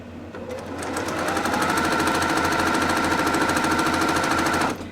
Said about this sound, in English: this sewing machine increased my accuracy on my piecing tenfold and my binding.